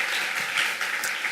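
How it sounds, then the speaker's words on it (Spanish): Brief burst of applause from a church congregation, a dense wash of clapping that stays fairly even for a second or so. "Denles aplauso al Señor, por favor."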